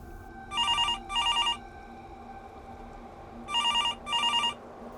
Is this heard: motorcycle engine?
no